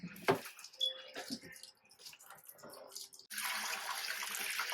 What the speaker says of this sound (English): Next step, start a siphon.